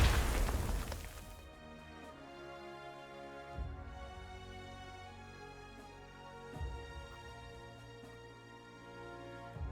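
An artillery shot and explosion in the Panzer Corps 2 war game, a heavy booming blast at the start that decays into rumbling, followed by two softer thuds later on over steady background music.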